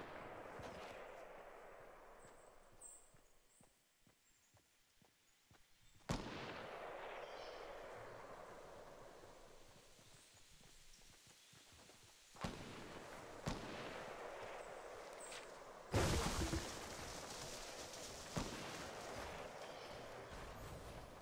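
Distant gunfire in the video game Fortnite booms and cracks in a few sharp bursts over a faint, steady background rumble, with no talking.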